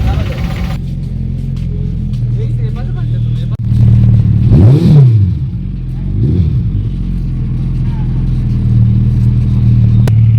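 Suzuki Hayabusa superbike engine with a steady low idle rumble, then a sharp rev sweeping up and falling back near the four-second mark, a second shorter blip after, with crowd chatter and voices over the top.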